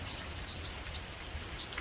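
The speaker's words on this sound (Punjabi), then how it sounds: "ਇਹ ਮੀਂਹ ਪੈਣਾ ਸ਼ੁਰੂ ਹੋ ਜਾਂਦਾ" Steady rain patters down with scattered nearby drips tapping on a surface, a continuous soft wash with no voices.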